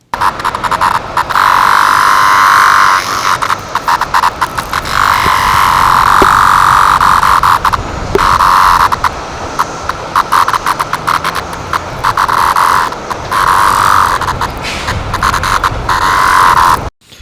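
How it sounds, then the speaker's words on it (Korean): Loud, dense buzzing of 17-year periodical cicadas in the south-central United States drones in waves, briefly breaking off and swelling again, with no voices. "각 매미마다 고유의 노랫소리가 있다는 것도 조금 알게 되었고요"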